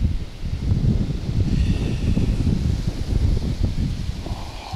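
Strong stormy wind buffets the microphone at a fishing spot, a continuous loud low rumble with gusting surges throughout, no talking.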